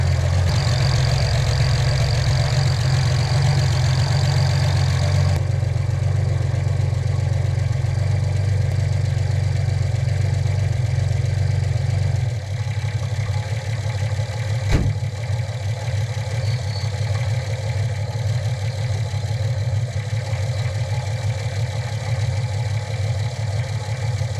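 A car engine idles steadily for a long stretch, a low droning hum with faint rapid ticking from a worn lifter beneath it, close by and unbroken.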